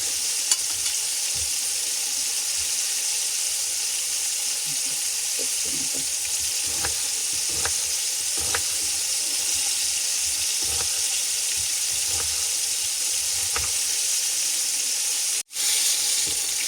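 Silver carp sizzles steadily in a frying pan, a continuous close crackle with scattered pops and spits throughout, briefly dropping out near the end.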